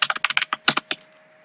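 Rapid keystrokes on a computer keyboard while entering code, a quick irregular burst of about a dozen close, crisp clicks that stops after a second, no voices.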